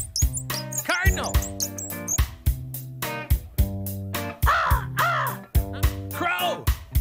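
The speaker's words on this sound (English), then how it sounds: "Crow." A crow gives harsh, repeated caws in a forest, layered over a pulsing music track, loud and close.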